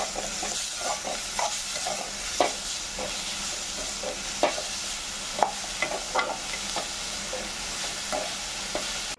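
Grated carrot fries in oil in a pan while a spoon stirs it, producing a steady close sizzle with frequent light scrapes and clicks in an irregular rhythm, without any speech.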